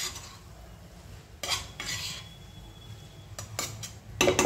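A spoon stirs jaggery modak filling with cardamom and nutmeg powder in a pan: quiet scraping and a few sharp metallic clinks against the vessel, ending in louder clattering, with no one talking.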